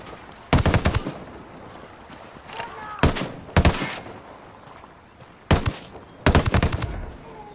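Gunfire in the video game Ghost Recon Wildlands comes in several loud, sharp bursts of rapid shots separated by gaps, with quieter game ambience between them.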